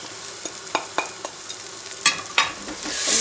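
Spoon stirring onions, tomato paste and spices frying in a pan: irregular scraping taps and knocks over a soft, steady sizzle, close and fairly loud, no voices.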